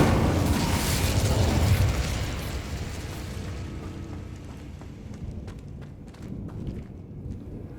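Incendio fire spell cast in Hogwarts Legacy on PS5, a loud burst of roaring flame that swells at the start and then fades into a softer crackling tail with scattered clicks and footsteps.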